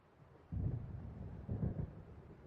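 Thunder from an approaching storm in the video game Alan Wake, heard as two low, rolling rumbles that swell and fade over a constant dull background, fairly faint and distant.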